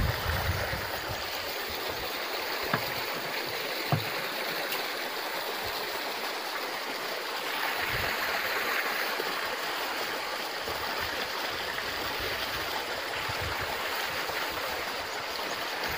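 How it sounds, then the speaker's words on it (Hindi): Water pours steadily into a drum of acid while ammonium sulphate is being made from urea, giving a continuous rushing, splashing flow that runs unbroken with no talk. "तेजाब डालने के बाद आपने डाल देना पानी।"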